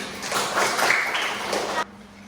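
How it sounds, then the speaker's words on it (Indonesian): Pupils in a fifth-grade elementary classroom clap for a classmate, a brief burst of scattered hand claps that holds steady for nearly two seconds and then stops abruptly. "Tepuk tangan buat Putri."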